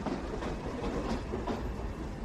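A commuter train arriving at a station makes a steady, loud, broadband rumble with rhythmic rattling throughout, with no voices over it.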